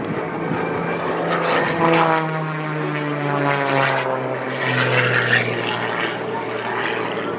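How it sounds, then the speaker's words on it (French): A propeller aerobatic airplane drones loudly and steadily overhead at an air show in Bagotville, its engine pitch slowly sliding as it maneuvers, including hovering. "Un vol stationnaire, c'est pas un hélicoptère, c'est un avion."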